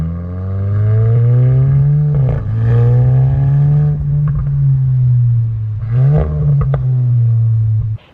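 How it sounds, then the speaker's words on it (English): A modified VW MK8 GTI with an ECS exhaust revs twice, each time rising from a throaty idle into a loud raspy roar and dropping back, recorded close and with no talking. "if you get a nice exhaust in your car, you can really make your car sound really,"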